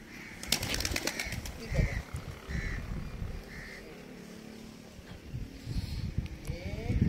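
Soft cooing of pigeons perched on solar panels at a farm, heard several times through background noise, with some scraping and rustling nearby.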